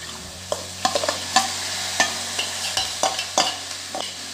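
Sprouted moth beans tipped into a pan with spices and stirred, a series of scraping spoon strokes and soft clatters against the metal over a light sizzle, close and irregular.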